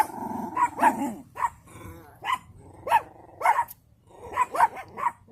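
A dog barks repeatedly inside a car in sharp, uneven bursts, close and somewhat boxed-in, with a low growl between barks.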